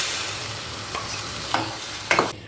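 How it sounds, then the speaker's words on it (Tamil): Onions and tomatoes sizzle loudly in hot oil in a pan while a spoon scrapes and stirs through them a few times. "இப்போ இந்த வெங்காயம் தக்காளி நல்லா வதக்கிட்டு இதில் நம்ம இந்த பாலக் கிரேவியை போட்டுக்கலாம்."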